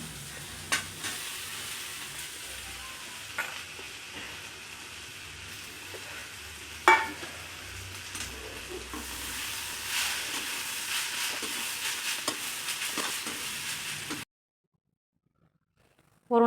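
Potatoes frying with browned onion and turmeric in a pan give a continuous soft sizzle with occasional stirring knocks, close by, swelling slightly louder before cutting out near the end.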